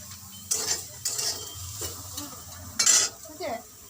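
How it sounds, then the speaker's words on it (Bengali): A pan of sour-spicy fish curry with mustard paste being stirred while it sizzles, with scraping spoon strokes in short bursts over a steady frying hiss, close by. "শুধু মাছের টক ঝাল সর্ষে বেটা দিয়ে রান্না হচ্ছে"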